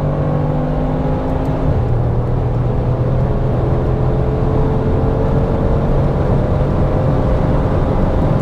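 Brabus 900 XLP 6x6 truck, a 3.7-tonne six-wheeled 2024 model, driven flat out above 210 km/h: a loud, continuous engine drone with one gear shift early on, steady wind and tyre roar throughout and no talking.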